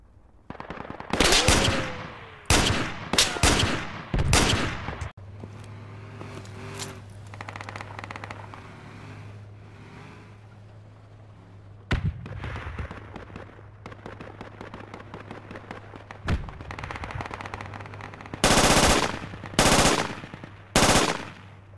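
Loud machine-gun bursts in the military shooter game Project Reality: several sharp clusters of rapid shots, a quieter stretch with a steady low hum and scattered distant reports, then more close bursts at the end.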